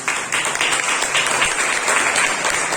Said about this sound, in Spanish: Denle un aplauso porque él se lo merece